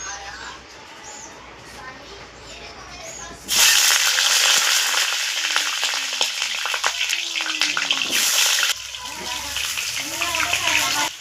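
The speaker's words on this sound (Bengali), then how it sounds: "তেল আমাদের গরম হয়ে গেছে, এবার আমি আলুটা ভেজে নিচ্ছি।" Potatoes dropped into hot oil in a pan, cooked outdoors, burst into a loud, steady sizzle that starts abruptly partway through and holds with crackles, after a quieter stretch of background noise.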